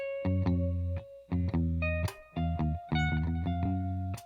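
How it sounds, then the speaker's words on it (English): An electric instrument played with reverb and delay effects gives choppy, rhythmic bursts of notes, each trailing into a washy echo with a distorted, effected tone. "I'm going to turn up the reverb and some delay."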